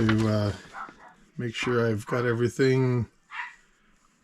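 A small dog barks several times in short yappy bursts in the background, mixed under a person talking throughout.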